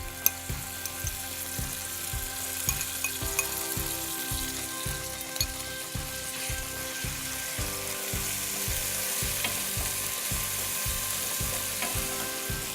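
Zucchini noodles with pesto sizzling in a very hot pan, a dense, continuous crackling fry with a faint regular mechanical tick underneath and no talk.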